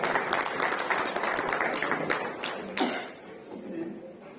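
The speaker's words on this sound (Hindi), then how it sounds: "जोरदार तालियों से हमारे धीरेन्द्र साहू जी का स्वागत किया जाए" Clapping from an award ceremony crowd welcoming Dhirendra Sahu, loud and steady at first, then thinning out near the end as the last claps and a few voices fade.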